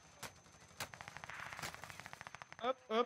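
Gunfire in Call of Duty Warzone on Rebirth Island, a quiet run of rapid automatic shots with a few sharper single cracks, while players chat over it.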